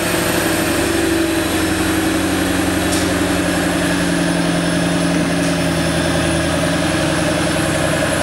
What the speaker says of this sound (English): then let you hear the exhaust a little bit